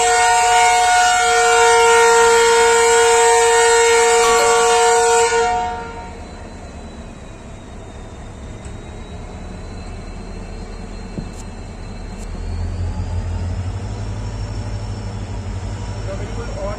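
A train departs the station on time, starting with a long, loud, sustained horn blast. After that comes a quieter stretch, then a low rumble of movement building up, with a voice speaking at times.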